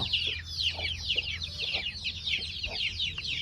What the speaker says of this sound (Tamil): இந்த சேவல் பேருங்கண்ணா இவன் பேர் வந்து செங்கீரிப்பா